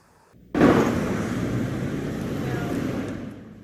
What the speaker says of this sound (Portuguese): O barulho dos carros na Avenida Mauro Ramos, uma das mais movimentadas de Florianópolis